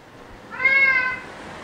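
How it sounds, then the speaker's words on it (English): A domestic cat gives a single clear, drawn-out meow, loud and close, with faint background hiss and no talking. "I took out the cat outside."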